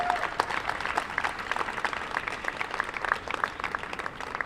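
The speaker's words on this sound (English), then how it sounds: "Let's give them a big round of applause." An outdoor crowd at an AIDS Walk event in San Francisco applauds steadily, with individual sharp claps standing out from the continuous clapping, moderately loud and free of talk.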